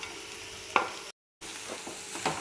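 Fried cauliflower being stirred into a pan with chopped capsicum for chilli gobi: scraping spoon strokes over a soft sizzle, with a brief dropout to silence midway.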